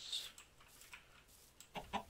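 Minecraft chickens clucking, a few short soft clucks and bird calls at low volume, with a brief high chirp early and a cluster of clucks near the end.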